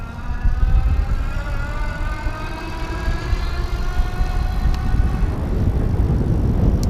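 An Easy Motion Evo Cross+ electric bike pulls away on its throttle, a close, loud, steady motor hum with rising tones over rumbling road and wind noise.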